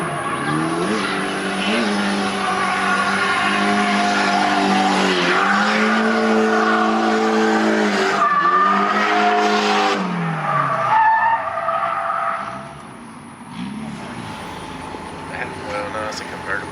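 Nissan S13 drift cars run a tandem session at practice, engines roaring and revving loudly with long tire squeals as they slide close by, before the noise drops away near the end.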